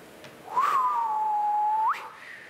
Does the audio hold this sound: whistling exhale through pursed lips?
yes